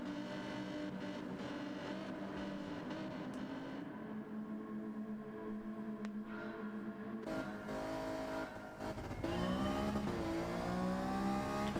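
Race car in Gran Turismo 7 launching from a downhill start at Road Atlanta against a Lamborghini, engine note climbing steadily through gear changes with a loud sustained roar and rising pitch sweeps near the end, no talk.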